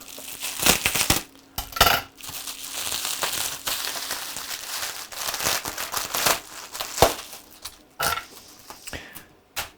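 Plastic bubble wrap packaging being cut and pulled off a taped-up shoe box, with close crinkling and crackling bursts in irregular clusters, some sharp snips and rustles, no talking.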